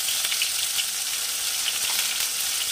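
Spice paste fries in a pan with a dense, steady hiss and crackle of sizzling oil that holds level throughout, close and unbroken.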